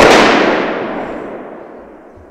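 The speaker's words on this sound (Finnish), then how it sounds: "Ammutaan kunnialaukaukset." A ceremonial honor volley from muskets at a commemoration of the Battle of Napue booms out as one loud, close blast that fades in a long rolling echo.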